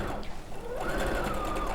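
A Brother sewing machine runs a regular straight stitch, its motor whirring steadily and close, then rising in pitch as it speeds up.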